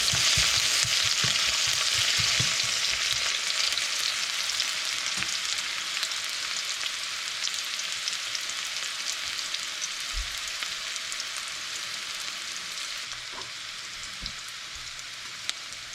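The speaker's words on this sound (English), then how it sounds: "We're gonna add our onions here first," Onions frying in a pan for a bitter melon, shrimp and dhal dish, a steady broadband sizzle holding throughout with a few scattered stirring knocks, close and continuous with no talk.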